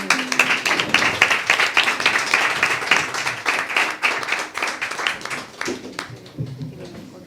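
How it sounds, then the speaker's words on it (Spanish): A crowd applauds steadily for several seconds at a memorial tribute to COVID victims, dense clapping that gradually thins out near the end, with a few voices mixed in. "Un aplauso para todos."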